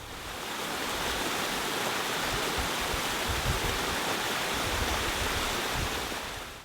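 A village stream rushes through a small channel toward a water-powered butter churning mill, making a loud, constant broadband flow of water with no pauses.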